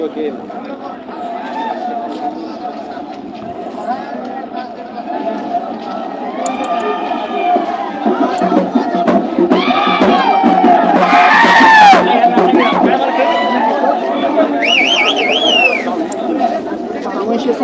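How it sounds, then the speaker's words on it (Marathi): Party workers celebrating Zilla Parishad and Panchayat Samiti election results in Pandharpur: a loud crowd of overlapping voices with shouts and whistle-like calls, building in intensity toward the middle and staying dense to the end. "कार्यकर्त्यांचा जल्लोष मोठ्या प्रमाणात चालू झालेला आहे"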